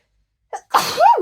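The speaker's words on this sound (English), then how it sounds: "I'm gonna sneeze." A single close, loud sneeze with a short sharp intake of breath first, then a forceful burst in otherwise silence.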